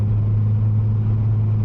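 A Porsche 997 Turbo pulls hard in fifth gear, its engine a steady low droning rumble heard from inside the cabin, constant and close with no voices.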